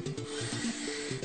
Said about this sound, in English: Take your wet sandpaper and go three times across it.